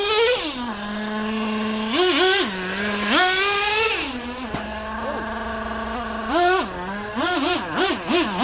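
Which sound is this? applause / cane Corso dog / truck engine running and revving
truck engine running and revving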